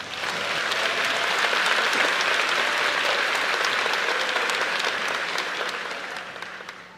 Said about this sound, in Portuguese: Quem pode dar a Jesus uma linda salva de palmas?